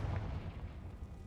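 A Confringo explosion spell from the Hogwarts Legacy video game goes off as a deep, rumbling blast, with a heavy low boom that rolls on steadily across the whole short moment, loud and close, with no voices.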